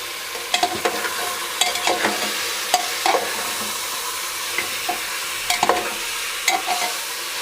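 Chicken pieces frying with onions in a pan for biryani, stirred in repeated scraping strokes over a steady close sizzle.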